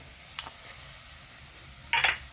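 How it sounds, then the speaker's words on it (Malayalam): Spice powder heating in a pan and being stirred with a utensil: a faint tap early on, then a short bright scrape-and-sizzle burst near the end over a quiet background. "നന്നായിട്ട് ആ പൊടി ഒന്ന് ചൂടാകുമ്പോഴത്തേക്ക് നമുക്കൊന്നും കൂടി ഒന്ന് ഇളക്കി കൊടുക്കണം"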